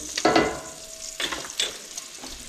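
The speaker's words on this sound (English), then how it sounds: "Just cook it nice and slow. Just trying to render it out, get it crispy." Meat renders its fat, sizzling and crackling in a hot pan, with a few louder bursts of spattering and scraping over a low, steady fry.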